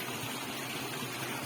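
Forest waterfall with water flowing and rushing in a steady, dense broadband roar, close and continuous throughout.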